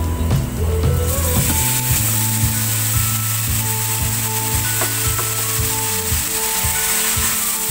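Chicken pieces go into a hot pot for Filipino tinola ginger chicken soup, setting off a loud steady sizzle and frying hiss, with scraping stirring and clinks of a utensil against the pot.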